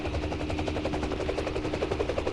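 A Mi-26 helicopter in the game Arma 3 gives a loud, continuous rotor thump with fast rhythmic chopping and engine roar, close and filling the short clip.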